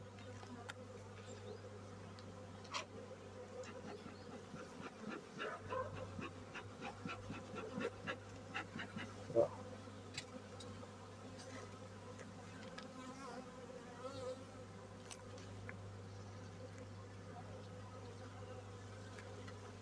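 Steady low buzzing of many honeybees in an open hive during frame inspection, faint and continuous, with occasional closer individual buzzes and small handling noises.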